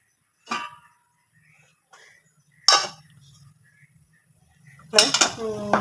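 A metal lid is set onto a cooking pot of anchovy peera in a home kitchen, giving three sharp, separate clinks and clatters with near silence between them.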